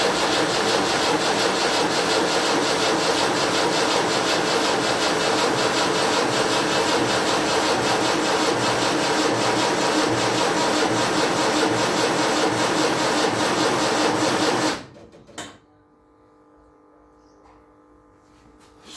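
A Land Rover Series 3 diesel engine cranks without catching, a steady grinding, rasping whirr from the starter that runs continuously for about fifteen seconds before abruptly cutting off into near quiet.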